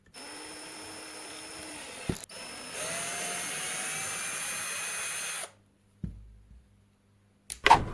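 A drill whirs steadily while backing a broken screw out of a wooden board, running for several seconds before cutting off, followed by a few short knocks and a brief tool burst near the end.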